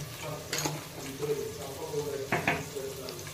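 Onions with salt and a pinch of turmeric are stirred in a pan, with a soft sizzle running under scraping spoon strokes and two sharper clinks against the metal, close up and moderately loud.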